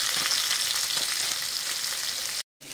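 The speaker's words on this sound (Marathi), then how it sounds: "आनी ऑनियन घालया. आनी मूठ भरशें करीपत्ता घाल." Onion and a handful of curry leaves frying in a pan with cumin, giving a steady loud close sizzle that cuts out briefly near the end, no talking.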